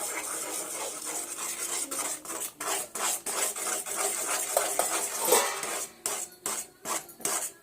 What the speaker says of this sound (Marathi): रवा आपल्याला एकसारखा हलवायचा आहे जेणेकरून त्याच्या गुटळ्या पण होणार नाहीत